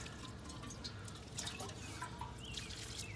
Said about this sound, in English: go ahead and water some more